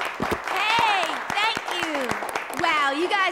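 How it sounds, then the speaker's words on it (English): An audience at an improv comedy show claps with scattered sharp hand slaps, steady but not dense, running under louder voices that talk throughout. "please welcome, with a rousing, sensitive round of rounding applause,"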